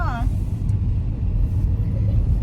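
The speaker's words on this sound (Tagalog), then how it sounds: "Traffic." Road traffic in Cebu rumbles low and steady nearby, cars idling and moving in a continuous drone while a person speaks briefly at the start.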